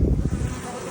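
Honey bees buzz around an open hive in an apiary, a close, steady hum with some wind noise, lasting about a second.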